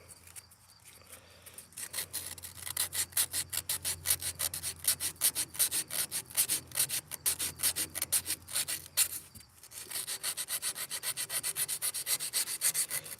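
A rusty part from an old Dearborn baler is rubbed by hand with emery cloth, making rapid rhythmic scratchy strokes, loud and close, with a short pause midway before the scrubbing resumes.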